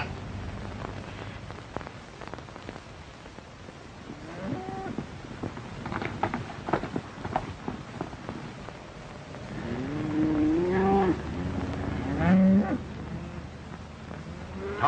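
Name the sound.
cattle mooing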